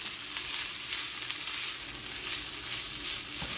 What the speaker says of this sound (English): so now it's starting to sizzle in there.